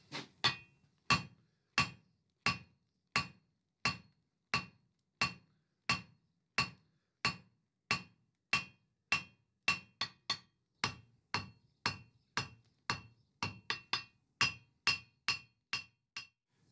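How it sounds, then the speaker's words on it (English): A hammer strikes hot metal on an anvil while forging a taper on the end of a bar, about thirty sharp ringing blows in a steady rhythm, near and clear, with no talking. "I'll start by forging a taper on the end of the bar, which we can then flatten to give us the profile of this leaf."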